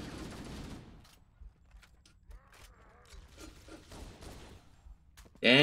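Scattered gunfire bursts from the Halo video game crackle faintly through quiet stretches, with one louder sharp burst at the very end.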